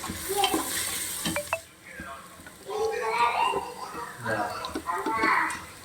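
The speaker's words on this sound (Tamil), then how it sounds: "இப்போ நல்லா வதங்கிட்டே இருக்குது." Onions sauté with a little salt in a pan, giving a soft sizzle with scraping stirring strokes, while voices, including a child's, talk nearby over the cooking.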